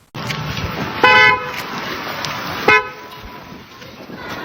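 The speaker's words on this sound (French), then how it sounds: "vous klaxonnez comme ça, c'est pourquoi, monsieur?" A car horn gives two short toots, the first longer and louder, over a steady background of street and engine noise.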